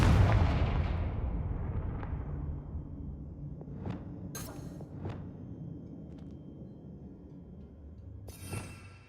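Confringo fire spell cast in the Hogwarts Legacy video game, a loud booming blast that decays into a long rumble, followed by several sharp crackling impacts and pops.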